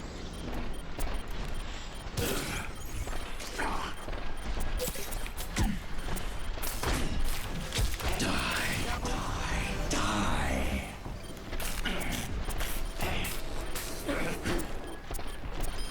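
Gunfire from a weapon in the video game Overwatch rattles in dense, repeated metallic bursts over a continuous game soundscape, loud and close throughout, with brief lulls between volleys.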